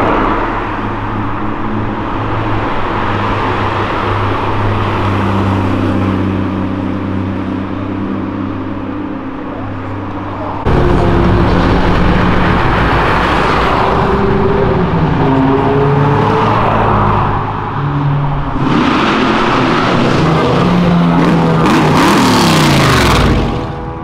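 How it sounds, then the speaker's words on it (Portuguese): Cars on a city avenue in Brazil, engines droning and revving as vehicles pass close by, a steady low rumble that swells louder midway with accelerating whooshes toward the end. "só tá passando carro de pobre na avenida hoje"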